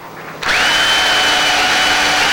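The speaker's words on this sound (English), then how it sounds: "I'm going to drill a hole midfield" Close up, a power drill spins up abruptly and holds a loud, steady high-pitched whine as it bores a hole.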